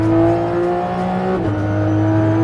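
A McLaren P1 GTR race car accelerates hard, its loud, close engine note climbing steadily, dropping briefly at a gear change, then pulling on again.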